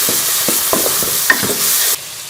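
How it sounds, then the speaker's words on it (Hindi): Tomato paste and spices sizzle in a pan for a chicken kofta curry, with steady frying hiss under repeated scraping stirring strokes that stop near the end, leaving quieter sizzling and no talk. "अब हम इसमें टमाटर का पेस्ट शामिल कर देंगे और इसके साथ ही मैं ये सारे मसाले भी इसमें शामिल कर दूंगी"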